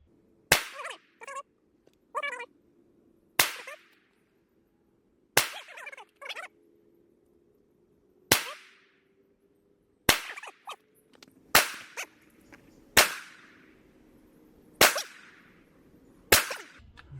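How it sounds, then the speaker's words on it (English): Handgun shots fired at an outdoor shooting range while emptying a magazine, about a dozen loud, sharp reports at an uneven pace, each with a short echoing tail and quieter clicks and shots between. "Just go ahead and empty the magazine. Shoot at your pace."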